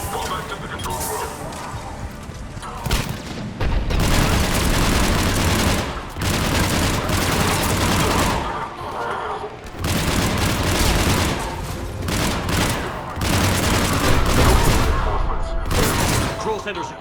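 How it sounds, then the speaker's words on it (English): Sci-fi battle from Mass Effect 3 with cannon fire and sustained automatic gunfire in dense, loud bursts broken by short lulls, heavy booms mixed in with the rattling shots. "The cannon fire is clearing the way."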